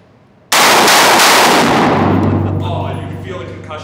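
A single loud, close unsuppressed rifle shot, fired outdoors on a range where .50 BMG rifles are being shot, cracks sharply and then leaves a long, low, rumbling echo that slowly fades away.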